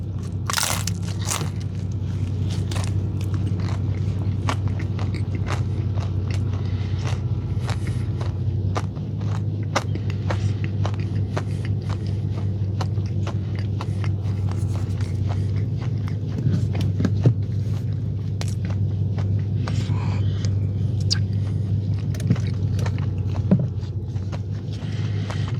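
Biting and chewing a toasted Dunkin' bacon snack wrap, with repeated crisp crunches and bites close to the mic over a steady low hum, no talking.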